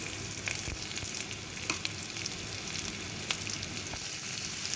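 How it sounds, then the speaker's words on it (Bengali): Boiled potatoes fry in a pan with salt for jeera aloo, making a close, continuous sizzle. Brief sharp crackles and pops rise out of it now and then. "ভাজা হয়ে এলে এর মধ্যে আমি বয়েল করা আলুগুলো দিয়ে দেব।"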